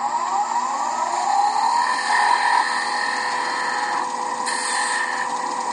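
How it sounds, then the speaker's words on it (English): A 3/8 spindle gouge cutting a spinning wooden Christmas ornament globe on a lathe, a steady close whirring hum with shifting tonal whine as the cut changes, no talking. "Just using a 3/8 spindle gouge again"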